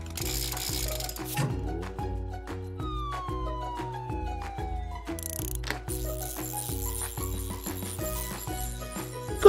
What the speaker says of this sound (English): This machine will lift you up, Jerry, so that Pete can replace your wheel.